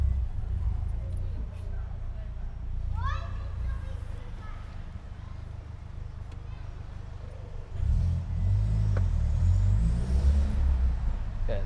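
A car fitted with a new exhaust drives along, its low engine drone steady under ongoing talk and swelling into a louder, deeper rumble near the end.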